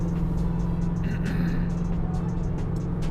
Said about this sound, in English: road has a lot of traffic right now